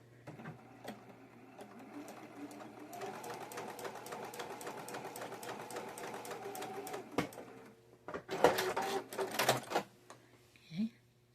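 A sewing machine stitches straight across a quilt seam, a rapid steady mechanical chatter running for several seconds, then short bursts and stops, with someone talking quietly over it.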